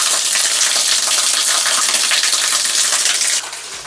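Water pours steadily from the mouth of a stone Nandi statue at a temple spring, a dense close rushing splash that stays loud throughout and eases slightly near the end.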